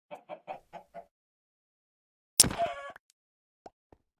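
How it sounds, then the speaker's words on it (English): Minecraft chicken clucking in the video game, five short rhythmic clucks in a quick row, then a louder burst of in-game sound effects and two faint blips, no talk. "from that one chicken we killed"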